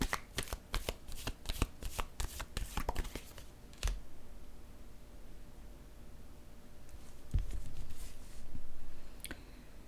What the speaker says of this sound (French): Je vais déposer une carte sur l'enfant maintenant.